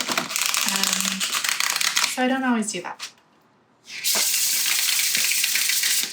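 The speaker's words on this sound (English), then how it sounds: "I'm probably only going to shuffle it a few times" Tarot cards are shuffled in quick, papery riffling bursts, broken by a short spoken remark and a brief pause before the shuffling resumes.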